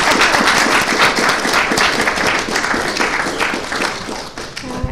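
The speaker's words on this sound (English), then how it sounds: "I want to give you a round of applause for coming this evening." An audience at an evening lecture at MIT claps in a dense, sustained round of applause that stays loud, then thins out slightly toward the end.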